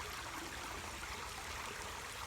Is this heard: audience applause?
no